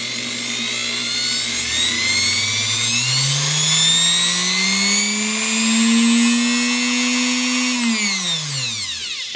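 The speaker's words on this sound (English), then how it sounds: "Strong little motor. Of course, it doesn't have any strain on it yet, but nice little motor." A Singer Model 237 sewing machine motor spins up from idle, whines steadily with a rising pitch for several seconds, then winds down as it is switched off, running with no load and no one speaking.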